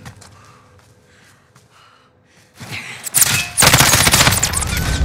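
Video game gunfire in Call of Duty: Modern Warfare, a burst of loud rapid shots erupting after a quieter stretch of faint clicks and movement, then sustaining as dense close automatic fire.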